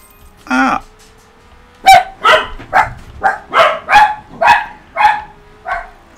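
A series of about eight sharp, evenly spaced dog barks, fairly loud and close, follows an earlier single yelp, all heard in the racing game Horizon Chase Turbo.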